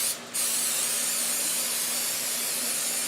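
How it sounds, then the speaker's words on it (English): Non-stick cooking spray sprayed onto a 24-cup mini muffin pan, one steady close hiss lasting a few seconds after a brief opening pause. "I'm just going to spray that with a non-stick cooking spray."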